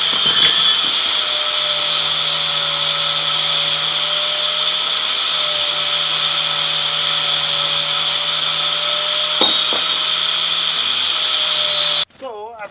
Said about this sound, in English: I'm going to take the grinder and just make these all smooth